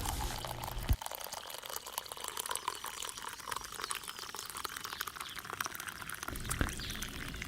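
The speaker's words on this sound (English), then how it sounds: "So pour yourself a hot cup and enjoy the show." Hot coffee pours into a cup in a steady splashing stream, close and fairly quiet, with a brief clink at the start and end.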